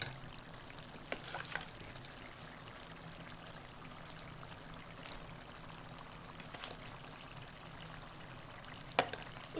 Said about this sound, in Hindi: हम इसमें आधा कप दही डाल देंगे और फिर से इसकी भुनाई करेंगे।